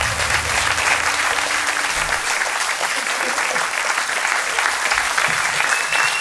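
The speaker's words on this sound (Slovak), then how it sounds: "obrovský potles prichádza" Audience at a Slovak stand-up comedy show in Nové Mesto nad Váhom breaks into loud, sustained applause, a dense continuous wash of clapping that fills the room for several seconds.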